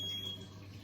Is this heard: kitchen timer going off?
yes